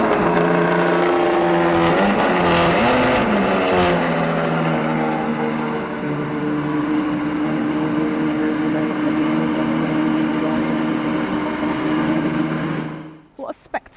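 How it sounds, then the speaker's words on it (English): A Ferrari single-seater V12 engine runs at close range, a loud sustained roar with a rising rev early on, holding steady for about twelve seconds before cutting off abruptly near the end. "we're going to turn this car on so you guys can hear exactly what it sounds like"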